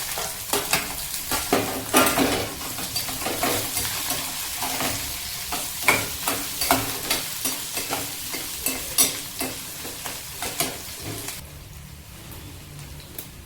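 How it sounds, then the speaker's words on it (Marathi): Onion and garlic frying in a pan for methi pithla, a steady close sizzle with rhythmic stirring scrapes throughout, fading quieter near the end, no talk. "आता हे चांगलं मिश्रण तडलं की त्यात आपण कांदा लसूण घालून गुलाबी होईपर्यंत परतून घ्यायचं आहे."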